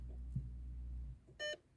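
A Volkswagen Golf 5 instrument panel that keeps rebooting gives a single short electronic beep, a clear tonal chime arriving near the end after a quiet stretch of low engine-bay hum.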